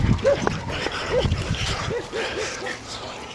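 A dog with a lame leg whimpers and yips in several short, high cries up close outdoors, partly overlapped by talking.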